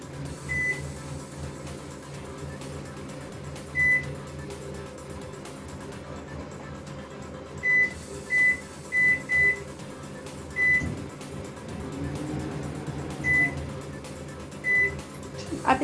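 A Haier microwave oven runs with a steady low hum and whir, close and moderate, while a series of short high beeps from its control panel sound at intervals as buttons are pressed.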